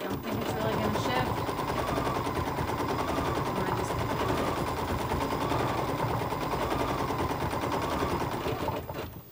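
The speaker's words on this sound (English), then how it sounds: "we're gonna sew the tack down stitch for this one" A sewing machine runs a tack-down stitch on fabric for a Kimberbell cherries pillow block, a loud, steady mechanical rattle that stays continuous nearly the whole time before stopping at the end.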